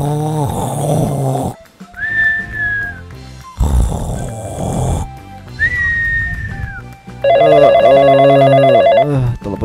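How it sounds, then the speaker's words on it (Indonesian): A telephone rings in an animated cartoon, a bright, rapidly trilling electronic ring lasting about two seconds near the end, after other whistling and snoring-like cartoon sounds. "Telepon dari siapa sih?"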